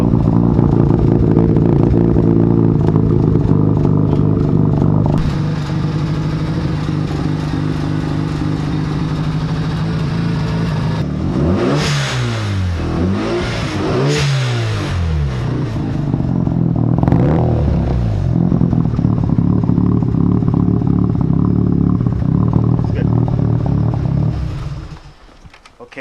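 A Mazda RX-7 FD's rotary engine runs loud and close, a steady harsh drone that swells through revs in the middle before settling back, with no talking.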